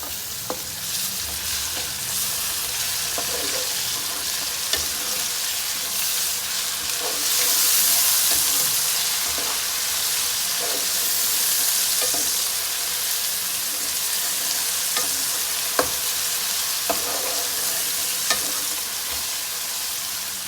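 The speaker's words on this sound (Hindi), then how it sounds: "इस टाइम हम जो है इसमें डालेंगे अदरक लहसुन का पेस्ट।" Ginger garlic paste sizzling and frying in a pan over medium heat for a bhindi curry, stirred with a spoon, producing a steady close hiss with regular scraping clinks throughout, no talking.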